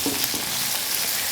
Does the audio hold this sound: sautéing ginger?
yes